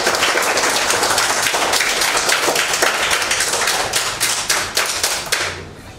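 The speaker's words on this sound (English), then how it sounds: "I love the applause" Children and staff applaud at a back-to-school gathering in Abuja, a dense, steady patter of many hands clapping close by that thins out and fades over the final second.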